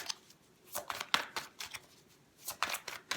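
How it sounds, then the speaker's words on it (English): Close, crisp bursts of tarot cards being shuffled, several riffles and flicks in quick clusters separated by brief pauses, with no talking. "let's give this a couple more shuffles."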